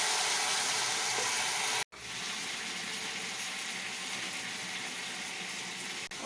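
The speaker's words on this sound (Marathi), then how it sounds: "पाण्याचा चिपका दिल्यासारखं थोडं टाकायचं आहे" Water poured or splashed into a pan of capsicum masala curry, a steady broadband rush of liquid with a brief break near two seconds, then continuing evenly and close.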